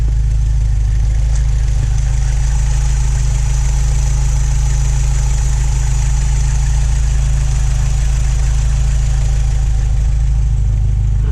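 A 1953 Austin-Healey 100 engine idling at about 800 RPM, a loud, steady, close low rumble that holds evenly throughout with no talk.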